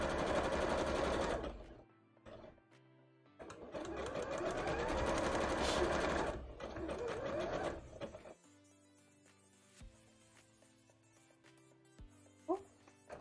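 A sewing machine runs a zigzag stitch attaching pieces of a cosplay costume, in two loud close bursts of rapid whirring separated by a pause, then quieter handling and clicks as it stops.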